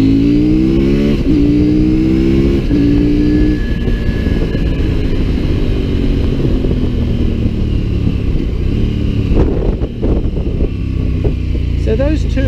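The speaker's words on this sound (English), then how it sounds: "when we accelerate and it wants to pick up the front wheel, the traction control kicks in and cuts all the power" A CF Moto MT800 Explore motorcycle accelerating hard in sport mode, its engine note climbing in pitch through repeated rising sweeps, loud and close with steady wind rush, then a sharp drop near the end as power cuts.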